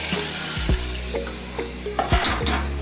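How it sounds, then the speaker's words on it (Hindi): Water poured into a pot of vegetable Kabuli pulao, a steady rushing splash with a few low thuds, close and fairly loud with no talking. "अब इसमें मैं एक में पानी ऐड करूँ ताकि ये चीज़ें गल जाएँ।"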